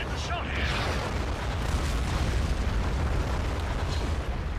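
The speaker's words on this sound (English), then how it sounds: "That had to have been an artillery strike." Artillery strike in a Star Wars Battle of Naboo battle game, a loud, sustained roar of blasts and rumbling debris that fills the whole stretch without letting up.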